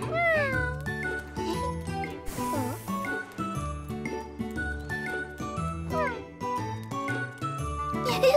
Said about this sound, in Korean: 안녕, 야옹아? 착한 야옹아, 그 모자를 돌려주지 않을래?